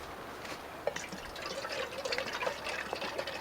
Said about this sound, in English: Pour in a little bit of water.